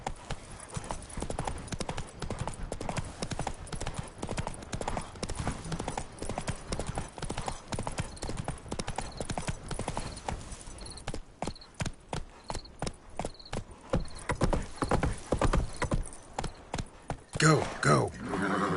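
Hoofbeats of Roach, Geralt's horse in The Witcher 3, pound in a steady galloping clip-clop throughout, loud and close, with game music and a voice talking over it.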